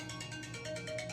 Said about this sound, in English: So that's my phone.